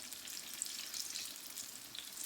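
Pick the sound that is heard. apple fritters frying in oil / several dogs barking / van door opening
apple fritters frying in oil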